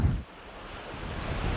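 Sea waves wash steadily at the shore, a broad continuous roar mixed with gusty wind buffeting the microphone.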